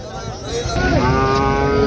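A buffalo at an outdoor cattle market lets out one long, deep, rising moo, loud and close over a rumbling crowd and engine background.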